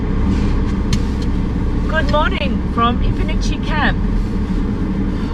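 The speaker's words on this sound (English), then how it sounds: "That was the sound of our demister." A campervan's demister runs on a chilly morning at a free bush camp in South Australia, giving a steady, fairly loud fan-like hum while someone speaks over it.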